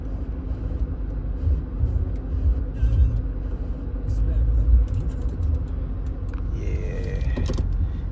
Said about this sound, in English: Got a little misfire, feel it a little bit